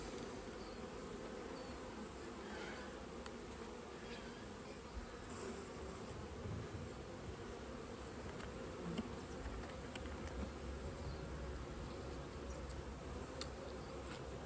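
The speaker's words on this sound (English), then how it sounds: "shake a few more bees in there." Honey bees buzz steadily around an open hive being split into mini nucs, a faint, continuous drone of many insects with no talk over it.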